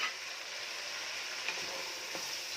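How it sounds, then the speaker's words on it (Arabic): Onions, peppers and tomatoes added to sausage in a hot pan sizzle in a steady, close, fairly quiet hiss with faint crackles and a stir or two, no talk. "وطبعا هنزل بقى معايا البصل والفلفل والطماطم، وهنزل بيهم كده عليه مرة واحدة"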